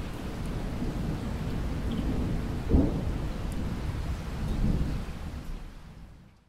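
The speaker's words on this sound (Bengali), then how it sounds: "ঝড় বৃষ্টি শুরু হয়েছে" Steady rain pours down through a cartoon thunderstorm while a deep rumble of thunder rolls in near the middle, the wash of rain easing and fading at the end.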